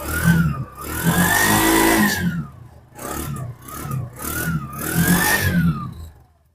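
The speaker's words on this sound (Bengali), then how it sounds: "ইঞ্জিনের সাউন্ড তো শুনলেনই।" A small CNG auto-rickshaw engine runs close by, revving up and down in repeated surges with a whining pitch that rises and falls, then settles.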